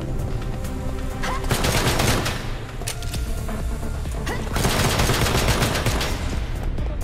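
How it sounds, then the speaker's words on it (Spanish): Rapid bursts of gunfire in the video game ANNO: Mutationem, loud crackling volleys with impacts and small booms, nearly continuous with a brief lull in the middle before another heavy barrage. "Cuando salto, disparo mucho más rápido."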